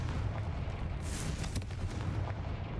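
A Confringo fire spell blast in the Hogwarts Legacy video game erupts as a bright burst around the one-second mark, with a second sharp crack following, over a steady low rumble of game ambience.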